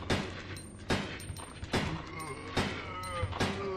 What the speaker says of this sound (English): I can only shoot my way out of this.